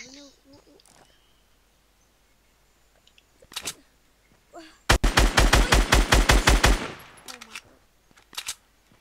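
Gunfire in a multiplayer video game crackles in one long rapid automatic burst near the middle, with a few shorter shots after it, and players talk before and after the shooting.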